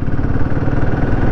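Adventure motorcycle engine running steadily, a Himalayan 450 or Scrambler 400X, with a continuous low throbbing rumble and slight mechanical clatter, close and fairly loud with no talk.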